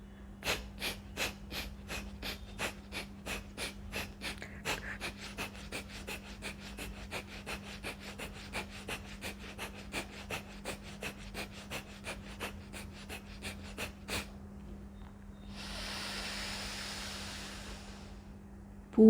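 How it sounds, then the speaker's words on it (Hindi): Forceful, rhythmic exhalations pushed through the nostrils in yoga breathing, about forty short sharp puffs at a steady quick pace, close and clear, followed by one longer drawn breath. "सिर्फ फोर्सफुल एक्सहेलेशन।"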